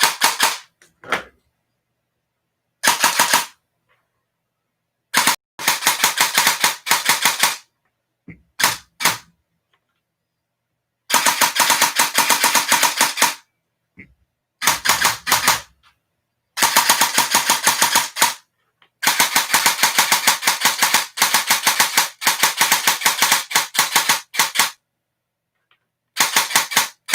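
A CYMA CM097 airsoft pistol firing in rapid full-auto bursts, sharp clattering strings of shots separated by silent gaps, loud and close over about half a minute.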